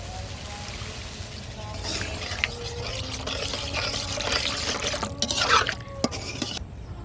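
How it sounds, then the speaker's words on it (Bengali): Water poured into a pan of well-fried ripe tomato curry cooked country-style, a steady splash and trickle over a broad noisy wash that grows busier toward the end, with faint voice in the background. "ভালো করে কষানো হয়ে গেছে, এবার জল দিয়ে দিচ্ছি।"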